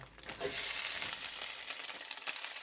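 Precooked gyro meat reheats in a hot pan with a dense, steady sizzle and crackle, fairly quiet overall, with small scraping bursts as it is moved around and nobody speaking.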